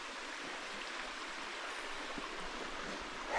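Big creek flowing over bedrock, a steady close rush of water with even, unbroken texture and no voices, holding a constant level to the end.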